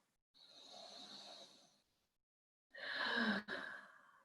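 Two separate breaths during a mobility stretch: a soft, airy exhale for about a second and a half, a pause of silence, then a stronger, fuller breath out. Close and quiet, with no talking.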